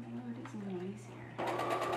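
Sewing machine stitching fabric for a mask while yarn is tucked into the fold. A soft voice comes first, then the machine starts midway with a steady, fast, close mechanical whir.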